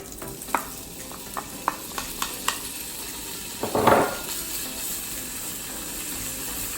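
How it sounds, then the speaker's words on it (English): Bacon strips go into oil in a hot pan for a carbonara ramen, giving a few sharp taps before a loud hiss at about four seconds, which then settles into a steady sizzle with no talking. "So I'm going to be popping in my bacon."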